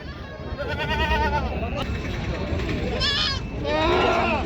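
Pure Beetal goats bleat at a weekly livestock market in Gangakhed, Parbhani, their wavering cries rising repeatedly over a busy crowd of people talking nearby.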